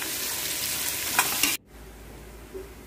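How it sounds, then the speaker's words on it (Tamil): Green chillies drop into a hot biryani pan, a loud bright sizzle that cuts off abruptly partway through, leaving quiet low background noise. "நாலு பச்சை மிளகாய் சேர்த்துக்கலாம்."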